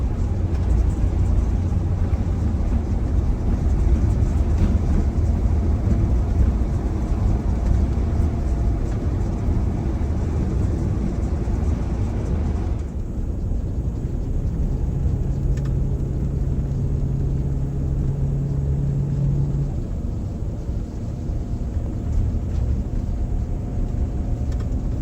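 Overweight bus with a new turbo climbing a hill at light throttle, a steady low engine drone and cabin rumble throughout that drops in tone partway through, with a brief higher whine later and no speech.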